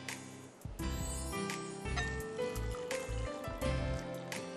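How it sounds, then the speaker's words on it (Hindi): Hot water poured into a bowl of couscous with orange juice and orange peel, a steady splashing trickle heard close, with a few clinks and bumps of kitchen handling. "और आपने इसमें गर्म पानी डाला,"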